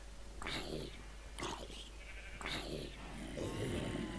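Minecraft sheep bleat three times in quick succession within the video game, each a short wavering cry, moderately loud over a low steady background hum.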